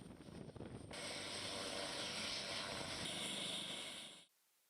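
An AW139 helicopter flies on a night mission, its rotor and engine making a steady broadband roar that swells and then cuts off abruptly near the end.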